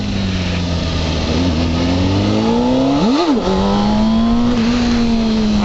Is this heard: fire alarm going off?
no